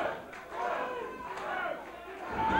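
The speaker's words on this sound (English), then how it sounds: "The crowd again chanting" A wrestling crowd chants and yells for a wrestler in a steady, rising roar, with a commentator talking over the noise.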